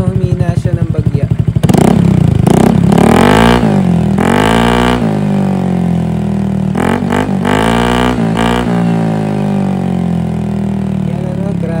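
A motorcycle fitted with an Akrapovic exhaust pipe and silencer revs hard and close, with sharp repeated throttle blips rising and falling over a rumbling idle; someone talks briefly at the start.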